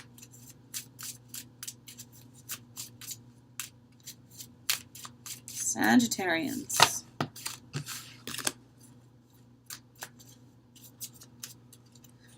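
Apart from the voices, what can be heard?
shuffling tarot cards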